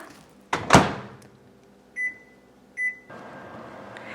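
A microwave door thumps shut, two short beeps follow as buttons are pressed, then the oven starts baking cake batter with a steady low hum.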